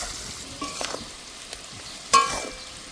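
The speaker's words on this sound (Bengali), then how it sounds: "এবার ভালো করে কষে নেব" Potato and papaya curry sautés in a pan, a low, quiet sizzle with a few stirring scrapes and one sharp clink of a utensil against the pan.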